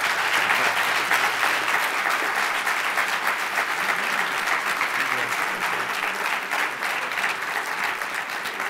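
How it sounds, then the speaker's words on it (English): Sustained applause from an audience for the panelists at a forum on education in rural communities, a dense, steady wash of clapping holding at full strength for the whole span with no voices over it. "Let's give our panelists a round of applause."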